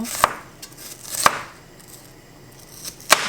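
A peeled onion is sliced with a knife on a board, three crisp separate cuts spaced unevenly, close and alone in a quiet room.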